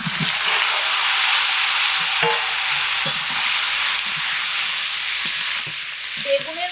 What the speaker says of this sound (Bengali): বেগুনগুলো তেলের মধ্যে দিয়ে ভেজে নিচ্ছি